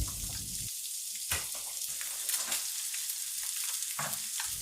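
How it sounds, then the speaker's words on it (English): Brown trout fillets fry in a pan on high heat, a close, bright sizzle that swells and fades in bursts with brief quieter gaps, no voices present. "So with the trout we fry them on this side for a couple of minutes, and we use high heat"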